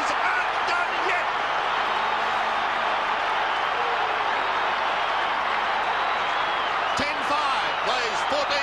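A packed stadium crowd at the 1993 AFL Grand Final, Essendon versus Carlton, keeps up a loud, continuous cheering roar, with brief sharper spikes and whistle-like bursts near the end.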